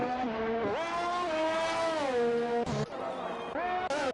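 Race car engine on an out lap in a sim racing game, heard alone and up close: a sustained high revving whine that climbs through gears, with sharp dips and quick blips at shifts or lifts.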